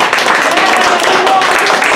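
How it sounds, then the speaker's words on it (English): Students at school fill the room with loud, dense applause close by, with voices and cheering mixed in throughout. "help me give a big round of applause"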